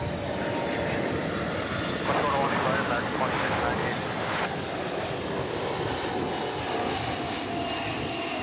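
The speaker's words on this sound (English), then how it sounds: "We're going to check out the 747 coming in. Singapore Airlines cargo on runway DFW." A Singapore Airlines cargo Boeing 747 comes in to land on a runway at DFW airport, a steady broad engine roar sustained throughout, with faint talk mixed underneath.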